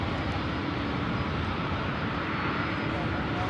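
Delta Airbus A220-300 jet lining up on an airport runway, its engines giving a steady, broadband rumbling roar at moderate distance with no break.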